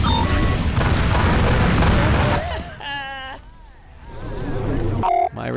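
Missiles blasted out of the sky during space combat in the video game Rebel Galaxy Outlaw: a loud, dense roar of rumbling explosions and gunfire bursts for about three seconds, then quieter stretches broken by short electronic harmonic beeps and tones.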